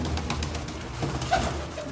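Pigeons cooing softly at close range, a low, steady murmur of coos running through the clip with a slightly louder call near the end, no talking.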